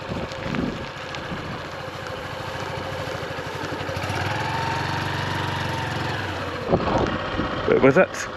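A motorcycle runs steadily at low revs, riding across grass in a wide U-turn, with a continuous engine drone, wind buffeting on the microphone, and louder bumps and a voice near the end.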